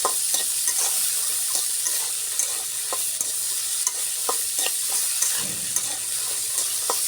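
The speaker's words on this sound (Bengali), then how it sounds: "নেড়ে চেড়ে খুব ভালো করে ভেজে নেব।" Small potatoes with a pinch of salt fry in a pan, a constant hissing sizzle under repeated scraping and clattering stirs at close range.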